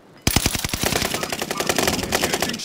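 Heavy automatic gunfire in the video game Warzone starts abruptly and continues as a loud, rapid, sustained burst of shots, with no talking over it.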